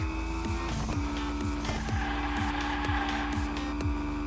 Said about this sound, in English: A beautiful drift around that bend